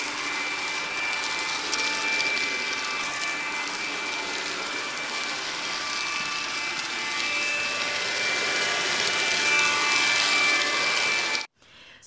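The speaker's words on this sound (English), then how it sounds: "So the Hoover is really powerful. You can actually hear it sucking up all the bits" A Hoover Capsule Stick CA192TP2001 cordless stick vacuum runs with a steady high whine and airy suction roar for about eleven seconds, close by, then cuts off abruptly.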